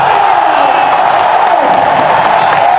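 A large crowd cheers and roars steadily at a basketball dunk contest, a dense, continuous wash of noise held at high level without a break.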